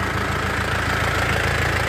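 A Troller off-road vehicle engine idles with a steady, low, throbbing rumble, loud and close, continuous throughout with no voices.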